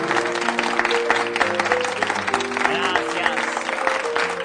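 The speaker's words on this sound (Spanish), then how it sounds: "Quiero pedir que se sacrifiquen y aplaudan a este colega mío" An audience at a 1971 café-concert stage show applauds steadily throughout, a dense wash of clapping with sustained tonal sounds and voices mixed in underneath.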